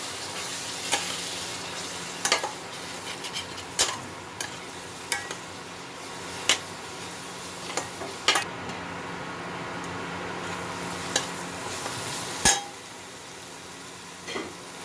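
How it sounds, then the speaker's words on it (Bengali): Chicken kosha masala fries in a pan with a constant low sizzle, punctuated by about a dozen sharp scrapes and clinks of a spoon stirring against the pan at irregular intervals. "এবার মশলাটাকে ভালো মতো কষাতে হবে।"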